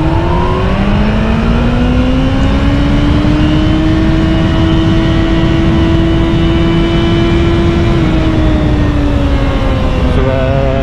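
A Kawasaki ZX-14R motorcycle engine revs up loud and close in first gear, its rising tone climbing steadily and holding high for several seconds before easing off, with a steady roar throughout.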